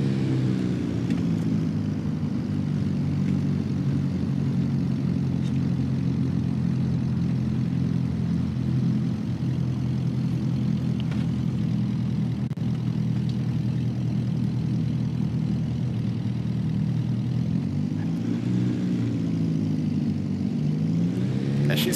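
A Cirrus SR22's piston engine and propeller drone steadily at low power while taxiing in X-Plane 12, a continuous low hum with a slight rise in pitch near the end and no voices over it.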